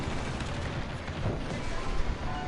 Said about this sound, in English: Well, we got one torpedo hit.